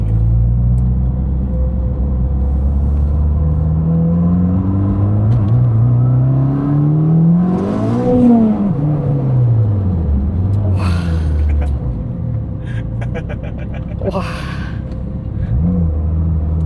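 A tuned Honda Jazz GE8 engine, modified to about 480 hp, revs and accelerates hard, its pitch climbing and falling through gear changes, loud and close, with a few sharp bursts near the end.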